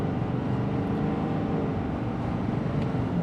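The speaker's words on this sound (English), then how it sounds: "But let's try flooring it here this time." A 2024 Ford F-350 Powerstroke diesel pickup roars at full throttle, a dense, continuous low engine rumble that stays steady and close throughout, with no voices.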